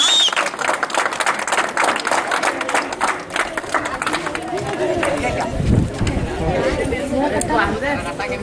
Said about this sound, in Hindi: तालियां बजे बेटा सबकी